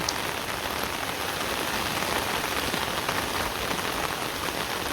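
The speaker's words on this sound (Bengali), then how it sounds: "বৃষ্টি নেমে পড়ছে বৃষ্টির সাথে ঝড়ও আসে একটু হালকা হালকা" Steady rain falls with a dense, even hiss of drops hitting surfaces, loud and unbroken throughout with no voices.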